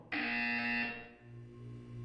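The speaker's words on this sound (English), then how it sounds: "When you hear the buzzer, look down at the floor." A harsh electronic buzzer in the video game Portal 2 blares for about a second, then fades into a lower lingering hum.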